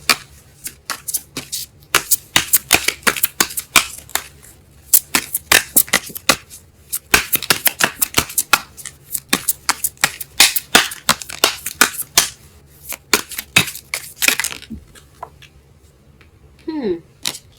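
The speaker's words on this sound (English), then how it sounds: "I am drawing cards everywhere." Tarot cards being shuffled and drawn by hand: a fast, close run of crisp riffles, flicks and slaps that goes on steadily, thinning out near the end where a brief voice sound is heard.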